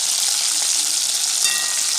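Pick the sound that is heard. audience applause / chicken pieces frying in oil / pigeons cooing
chicken pieces frying in oil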